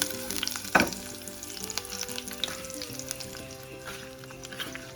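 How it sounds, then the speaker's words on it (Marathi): Garlic cloves and curry leaves roasting in hot oil for a Maharashtrian tarli (sardine) fish fry give a steady close sizzle, with a sharp crackle and a few stirring clatters, no voices. "आता ही लसणीच्या सात आठ पाकळ्या आणि कढीपत्ता जरा चांगलं जरा भाजून दे"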